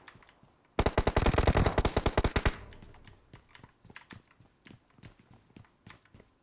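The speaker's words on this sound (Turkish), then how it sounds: "hala etrafta bir sürü silah sesi var" A loud rapid burst of automatic gunfire in PUBG Mobile, then scattered sharper shots continuing at a lower level, no talking.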